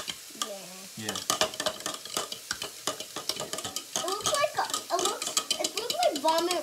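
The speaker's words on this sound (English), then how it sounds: "I like to stir my eggs in a cup" A utensil clinks and scrapes rapidly inside a cup while eggs are stirred, a quick rattling rhythm close by, with people talking over it and kitchen sizzling in the background.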